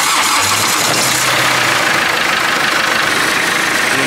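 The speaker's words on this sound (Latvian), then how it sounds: "Sounds like it has, yeah. Sounds like biturbo." Biturbo car engine cranking and catching, then running with a loud, steady rumble close by, a dense mechanical roar throughout.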